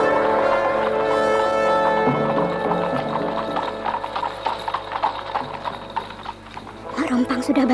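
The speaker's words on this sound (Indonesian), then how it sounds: "Mungkin bunyi kereta kuda Mak Rompang hanya ditujukan untuk aku saja" Steady clip-clop of a horse-drawn carriage in an Indonesian radio mystery drama, hooves trotting in a rhythmic beat under music, with a brief whinny-like sound near the end.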